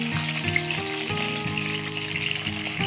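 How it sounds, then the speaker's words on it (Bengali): Pointed gourd seasoned with salt and turmeric frying in hot mustard oil in a kadai, giving a soft continuous sizzle with occasional stirring clatter, moderately quiet and close. "এবার নুন হলুদ দিয়ে মাখানো পটলগুলো দিয়ে ভেজে নেব।"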